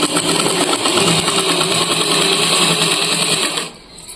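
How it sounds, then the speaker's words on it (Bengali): A sewing machine stitching a bag made from a rice sack runs loud and close in a fast, even mechanical whir, then abruptly stops near the end, leaving a quieter hum. "এই জায়গাগুলো কিন্তু ভালোভাবে সেলাই করতে হবে"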